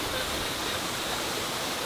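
Waterfall in Morocco, a steady broadband rush of falling water, close and continuous, with faint voices mixed in.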